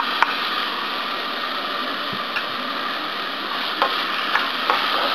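Sliced pork and wilted onion sautéing in a pan for bachoy, giving a steady close sizzle with a few faint clicks of stirring, no voices.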